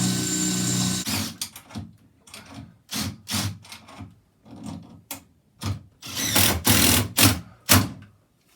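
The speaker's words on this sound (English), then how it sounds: "Now drill bit straight through." A power drill whirs in short repeated bursts, grinding through material while fitting a bathroom sink or toilet, with pauses between each run, close up and moderately loud.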